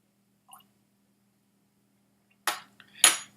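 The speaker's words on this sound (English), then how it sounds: "Just a little bit more water." A small splash of water poured into a glass of Laphroaig 18 Islay single malt scotch, heard as two short trickling bursts near the end after a faint earlier tick, close and quiet with no talking.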